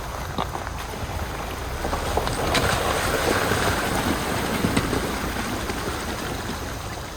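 A creek runs past in wooded hill country, its water making a steady broadband rush that swells slightly midway, heard close by with no voices.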